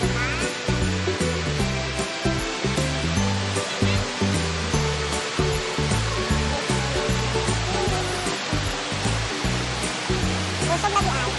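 Rushing water of a waterfall: loud, continuous roaring spray that fills the whole stretch without a break.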